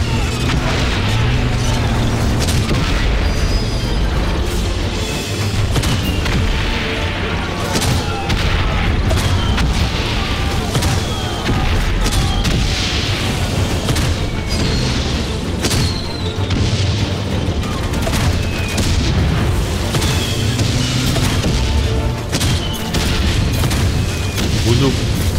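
Dense, continuous combat noise from Valiant Hearts: The Great War, with repeated booms and cannon-like blasts over a constant roaring background, loud throughout.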